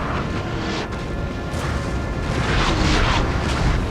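Three artillery pieces bombard French troops at the Battle of Waterloo in Napoleon: Total War, a dense, continuous roar of distant cannon booms and rumbling battle noise with sharper bursts layered over it, loud throughout with no talk.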